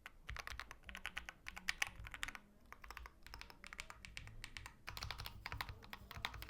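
Typing on an aluminium keyboard with magnetic switches gives rapid, irregular bursts of crisp key clicks with brief pauses, close and fairly quiet, with no talking.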